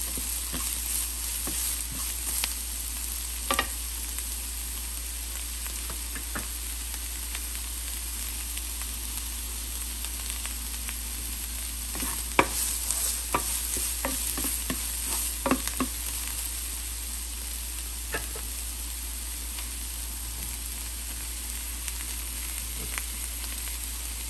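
Onions frying in a pan until just translucent for rava paniyaram, a steady low sizzle running throughout with scattered scrapes and taps of a spatula stirring, no voices.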